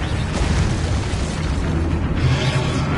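A Confringo blasting spell explodes in Hogwarts Legacy on PS4, a loud, dense roaring boom that fills the whole stretch without a break.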